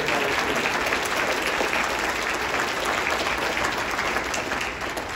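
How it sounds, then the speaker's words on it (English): A large audience at the Guelph State of the City 2024 event claps in sustained, dense applause, loud and steady throughout before easing slightly at the end. "Give them a round of applause."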